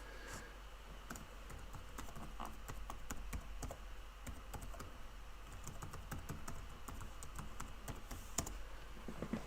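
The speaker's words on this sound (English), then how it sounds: "I will type it in here right now." Brisk typing on a computer keyboard, dense irregular key clicks close by, rising and falling in quick bursts over a low background hum, with no speech.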